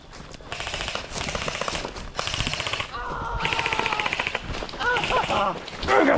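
Airsoft guns fire in rapid automatic bursts through an outdoor game, loud and close, with brief pauses between volleys and people shouting over the shooting.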